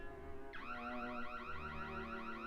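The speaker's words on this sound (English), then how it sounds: "the security alarm bell went off" Security alarm bell going off in a dark school hallway at night, a sustained warbling electronic ring that starts abruptly after a brief lead-in and keeps pulsing steadily, moderately loud.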